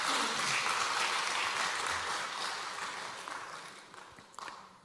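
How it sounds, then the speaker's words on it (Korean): A church congregation at a Wednesday service applauds after a hymn, a broad, steady roar of clapping that gradually thins and fades over several seconds, ending with a few scattered claps. "우리 다 같이 박수로"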